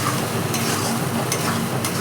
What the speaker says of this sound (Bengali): দিয়ে আবার ভালো করে কষিয়ে নেব।